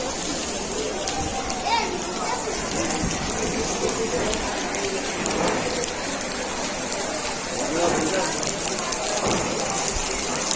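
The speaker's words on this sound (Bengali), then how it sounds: "অনেক জোরে বৃষ্টি নামছে" Heavy rain pouring down on an outdoor religious gathering (waz mahfil) ground beside a madrasa, a dense continuous roar of drops on surfaces, loud and steady throughout, with faint voices underneath.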